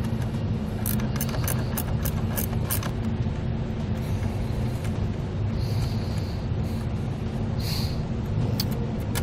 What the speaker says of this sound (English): I pulled the nut off the positive side of the battery here